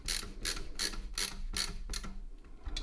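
A screwdriver ratchets as screws are driven into a Minisforum UM890 Pro mini PC, giving a series of about six close clicking bursts in a steady rhythm, then a quieter pause.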